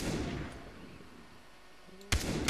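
Gunshots in the video game Far Cry 3, a sharp report cutting in near the end after a stretch of ambient game noise, loud and close.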